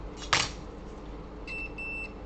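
A quiet room with a brief clatter, then two short electronic beeps from a multimeter in continuity mode during an Asus X420U motherboard repair, the second beep slightly longer.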